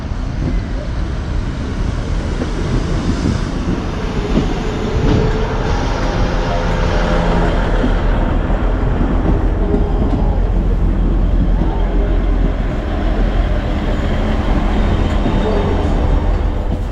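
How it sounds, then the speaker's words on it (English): A Great Western Railway class 158 three-car train arriving at a station on the Tarka Line, a loud continuous engine rumble and wheel noise close by, steady throughout with voices faintly mixed in. "now we can take a look at the arrival of my train, which will now bring me back to Exeter Central"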